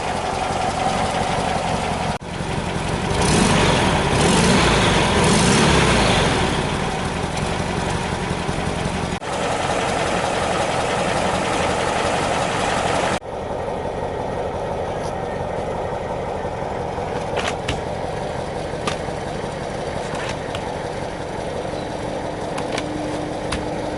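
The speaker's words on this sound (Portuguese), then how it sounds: "Marcha lenta ideal. A Bianca vai aproximar do escapamento agora pra gente mostrar." A 1975 Volkswagen Brasília's air-cooled engine idles steadily, recorded up close at the exhaust, a loud, even chugging that swells briefly and then settles into a quieter, stable idle.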